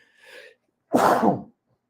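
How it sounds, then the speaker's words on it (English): A single close sneeze: a quick sharp intake of breath, a short pause, then a loud, explosive burst of air in a quiet room. "excuse me, had a sneeze"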